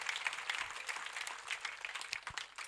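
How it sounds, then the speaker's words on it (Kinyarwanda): A church congregation applauds, a dense patter of many hands clapping steadily at moderate distance, fairly quiet and without talk over it. "Katwongere dukomere Imana yacu amashyi menshi."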